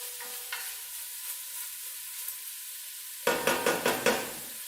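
Celery sautéing in a pot gives a steady low sizzle, then a burst of four or five quick scraping, clattering tosses near the end as the vegetables are stirred around.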